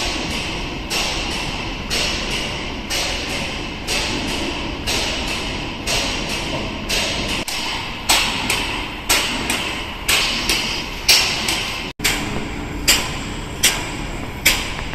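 Secondary liner machinery works inside a nearly finished rail tunnel on the Greenwich line, giving loud, regular metallic hammering thumps that repeat about every second over a constant industrial rumble, close by with no talk.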